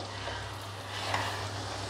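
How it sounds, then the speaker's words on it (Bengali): Eggs and potato pieces frying with spices in a pan give a soft, steady sizzle, quiet and close, with light stirring and no voices. "এবার আমি ডিম আর আলুটা এর মধ্যে দিয়ে দেবো একটু ভাজা ভাজা হবে মশলার সঙ্গে মাখা হবে"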